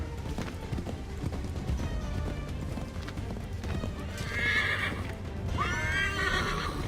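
Horse in Assassin's Creed III on rocky, wooded frontier terrain, steady clip-clop of hooves running throughout, with two loud whinnies breaking in near the end.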